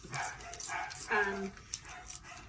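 Dogs bark and yip in a few short bursts in the background, with a person talking over them.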